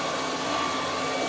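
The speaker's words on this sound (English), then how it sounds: "this juicer work very well with fruits" An electric fruit juicer whirs in a steady, loud, continuous drone close by, with no voices over it.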